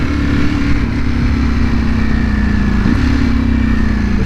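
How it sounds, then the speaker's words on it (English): A 2020 Ducati Panigale V4 R race bike idles and burbles at low speed through slow street maneuvers, its steady engine drone loud and close throughout with a slight dip in pitch partway. "This is a V4R, this is a race bike, right?"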